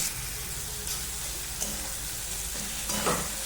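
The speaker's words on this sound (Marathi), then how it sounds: "हे छान फ्राय झालेलं आहे" Tomatoes cooking down with salt in a pan for a sprouted moth bean dish, a constant close sizzle with a few stirring scrapes, moderately quiet and steady.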